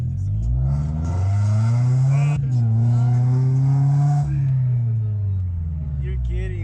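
A 2015 Scion FR-S with Skunk2 headers and Spec-D catback exhaust accelerates hard, its loud engine note rising in pitch through a gear change, then easing off, close to the microphone.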